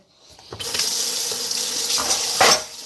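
Water gushes steadily from an opened tap into a sink, a continuous loud splashing rush that starts abruptly and runs throughout with a few surges in force.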